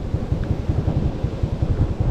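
Wind buffets a phone microphone on a sunny beach hours before a typhoon, a loud rumbling roar with irregular gusty pulses, continuous and close, with no voices.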